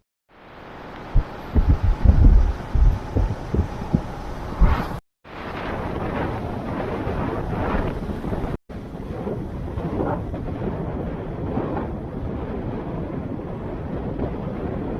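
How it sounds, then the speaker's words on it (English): Wind buffets the microphone outdoors on a perch fishing trip, starting with heavy thumping gusts, then after two brief dropouts settling into a steady, loud rushing roar with no talking. "A little bit windy, I'm just going to head over there now"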